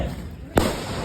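A single Diwali firecracker bursts with a sharp, loud bang amid steady outdoor background noise.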